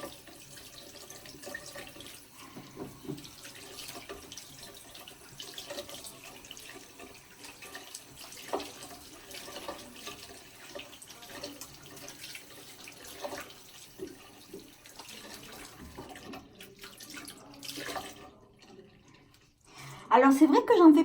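Hot tap water runs steadily into a sink to wet a washcloth for a facial skincare routine, a soft continuous splash under quiet background noise, with a louder burst of flow near the end.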